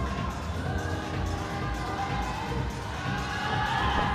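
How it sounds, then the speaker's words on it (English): A home crowd cheers a climber at the women's bouldering final in Hachioji, Japan, producing a continuous roar of voices and cheering that swells gently across the whole span at a moderate distance. "getting massive support, as you'd expect from her home crowd"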